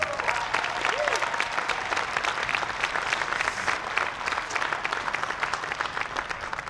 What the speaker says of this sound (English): Please, round of applause for Heather File.